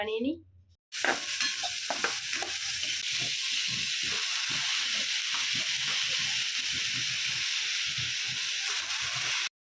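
Khichuri for a festival offering is stirred in a pot on a stove, a steady sizzling hiss with repeated scraping strokes of the spoon, loud and close, starting after a short pause.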